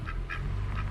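Three short nasal quacks spaced evenly over a low steady rumble, close by and fairly loud.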